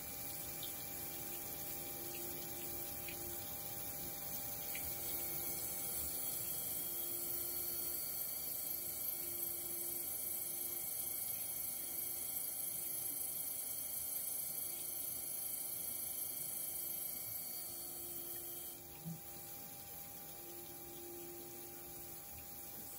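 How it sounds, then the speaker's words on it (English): A CNC cylindrical universal grinder runs a wheel dress cycle, giving a steady, even machine hum with a watery coolant wash underneath. It continues unbroken, with no talking. "Starting off with a dress cycle."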